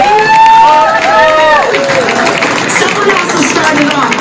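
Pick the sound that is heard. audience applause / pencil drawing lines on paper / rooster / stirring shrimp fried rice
audience applause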